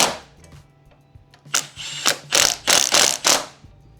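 Ratchet clicking as it tightens 12 mm hood hinge bolts on a Nissan Z, faint light clicks at first, then a run of loud, close, rapid ratcheting bursts in steady rhythm with no talking.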